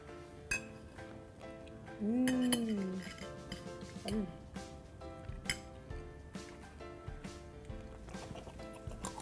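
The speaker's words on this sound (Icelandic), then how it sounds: "þetta er erfitt að borða með hnífapörum." Cutlery clinking and tapping on plates while a single-serving homemade pizza is eaten, with scattered light metallic chinks throughout and a voice briefly heard over the clatter.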